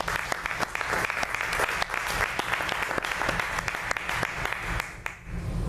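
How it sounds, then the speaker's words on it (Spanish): A church congregation applauds steadily for several seconds during a service, with dense, even clapping from a sizeable nearby crowd that tapers slightly at the end. "Den un buen aplauso a Cristo,"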